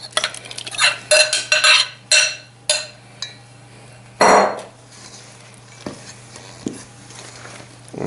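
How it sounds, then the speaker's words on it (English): Bran square batter being stirred in a bowl as dry ingredients are dumped in, with a quick run of spoon clinks and scraping, a soft pouring rush midway, then quieter occasional taps over a low hum. "just get your dry ingredients, give it one last stir, and just dump all of that in"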